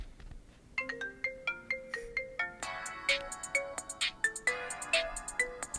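A Running Man ringtone plays from a phone, a rhythmic synth melody of quick bright notes over a steady beat, clear and close with no talking.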